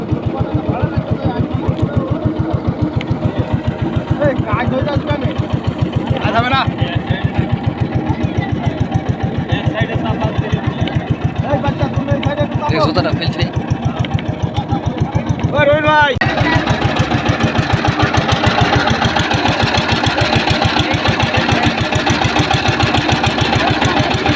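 A motorboat engine runs steadily and loudly throughout while a 12-year-old boy steers the boat, with a continuous droning hum that grows slightly louder after a brief shift midway; someone talks over it.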